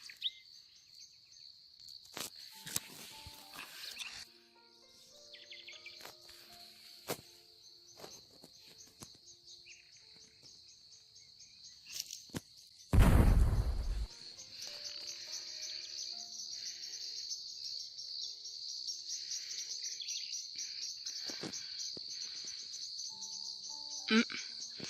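Field crickets chirp in a steady, high-pitched trill that carries through the whole stretch, with scattered clicks and a loud bump partway through.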